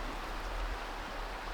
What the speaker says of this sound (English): And that water sounds so good.